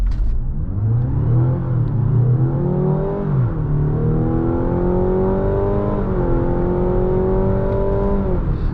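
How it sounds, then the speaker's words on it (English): A 2025 Mazda CX-70 plug-in hybrid pulls away from a standstill, its engine note climbing steadily through several rising sweeps as it gathers speed, loud and continuous from inside the cabin with no talking. "we can get a chance to kind of test out the acceleration of the CX-70 plug-in hybrid here"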